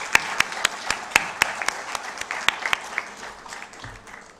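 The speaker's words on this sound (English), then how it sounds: "I request all of you to give a big round of applause for them." A conference audience applauds in a sparse patter, with distinct individual claps standing out over a softer mass of clapping and a few louder sharp hits, fairly close and thinning toward the end.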